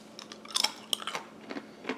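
Close, crisp crunching of someone chewing brittle dehydrated banana chips, a few sharp crackles scattered over two seconds.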